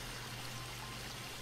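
Steady rushing water from a waterfall in the video game Grim Legends 2, a constant, even wash of noise held at a moderate, unchanging level with no talk.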